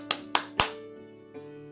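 Three sharp hand claps ring out in quick succession, then a softer fourth clap, set against a sustained musical tone in a quiet setting.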